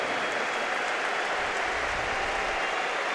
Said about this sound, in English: Jacob Murphy, a round of applause